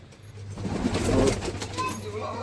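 Khatang pigeons, a pair kept by a bird hobbyist, cooing nearby in soft repeated throaty calls that swell toward the middle, over a low steady background hum.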